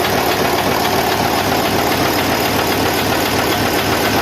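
An overhauled Isuzu 10PE1 diesel engine runs steadily up close with a noisy belt, giving a dense, constant mechanical roar and clatter that stays loud and unbroken throughout, with no voices.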